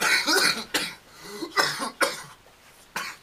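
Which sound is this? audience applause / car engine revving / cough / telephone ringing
cough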